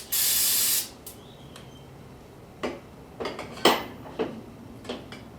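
A can of brake and carb cleaner gives one loud, close hiss lasting under a second on a 6.0 LS engine part. Faint metallic clinks and taps follow.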